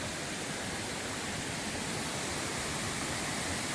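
Water rushes steadily down a log flume, a loud, dense and unbroken roar of splashing flow that fills the whole clip with no voices.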